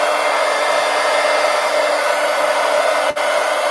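A hair dryer blows steadily and loud at close range to dry paint on a coloring page, with one brief cut near the end and no talk.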